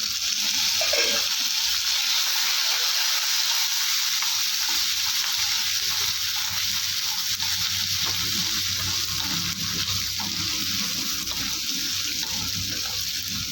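Shallots, dried red chillies and garlic frying in hot oil for a vegetable chutney, giving a loud, steady, hissing sizzle that carries on without a break the whole time.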